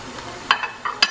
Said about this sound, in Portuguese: Agora eu vou colocar, ó, a cebola picadinha aqui.